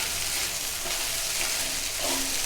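A snack mixture of crumbled idli and onions is stirred and fried in a hot pan, giving a steady, close sizzle with soft scraping from the stirring throughout.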